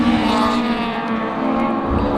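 A two-stroke rally car engine drones steadily on a gravel stage of the Goldrush Rally Coromandel, a loud continuous buzzing tone heard from nearby without breaks.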